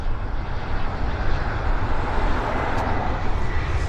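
Airliner engines spool up for takeoff at Vancouver Airport, a loud, steady broadband roar that holds throughout with no pauses.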